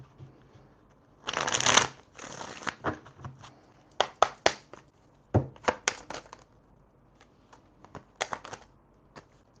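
Tarot cards shuffled by hand, several close bursts of riffling and quick flicking snaps separated by short pauses, with no talking.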